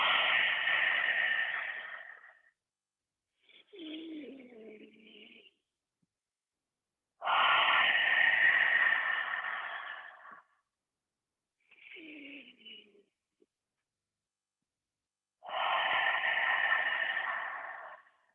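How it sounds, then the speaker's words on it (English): Slow guided breathing repeats in three long, full exhales through an open mouth, each followed by a softer, shorter nasal inhale, with quiet pauses between breaths and no talking. "take a nice happy breath in through the nose and out through the mouth"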